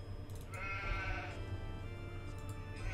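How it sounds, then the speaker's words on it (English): Sheep bleat in the Age of Empires II video game, a single clear bleat rising over a steady low game background hum with no talking. "Look at that, more sheep."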